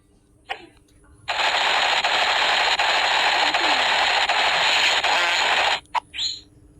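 Sustained burst of rapid machine gun fire from the Whack Your Ex video game, loud and dense for several seconds, with short sharp game sounds just before and after.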